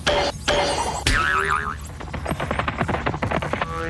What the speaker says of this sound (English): The arrow hit so hard that the suction cup forced all the air out from underneath it.